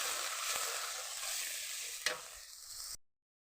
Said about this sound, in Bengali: মশলা ভাজা হয়ে গেছে, এবার হালকা একটু জল দিয়ে মশলাটা ভালো করে কষাই নেব